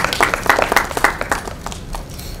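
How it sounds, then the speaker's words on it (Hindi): Applause welcoming a guest at a desert painters' camp event, a burst of close, loud clapping from a small crowd that gradually thins and fades over a couple of seconds. "जोरदार तालियों से सर का स्वागत।"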